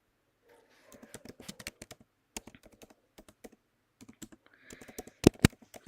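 Code is typed on a computer keyboard during a live coding session: close, quiet bursts of keystrokes with short pauses, ending in a couple of louder clacks.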